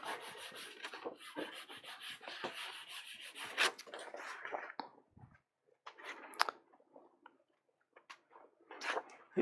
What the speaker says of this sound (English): Embossing this morning.